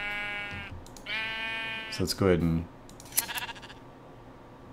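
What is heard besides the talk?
sheep bleating when sheared in Minecraft video game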